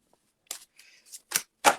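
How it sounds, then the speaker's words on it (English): Oracle cards being shuffled by hand, heard as several short papery riffles and slaps in quick bursts with quiet gaps between them, close and fairly soft, with no talking. "Let's shuffle this properly."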